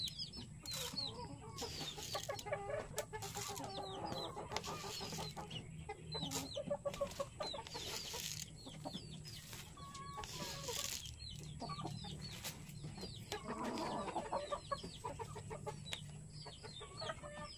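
Hens close to laying clucking repeatedly in short bursts at close range, with soft scratching and chick chirps mixed in over a quiet farmyard background.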